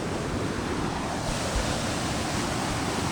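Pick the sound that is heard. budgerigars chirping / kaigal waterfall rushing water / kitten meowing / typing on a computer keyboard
kaigal waterfall rushing water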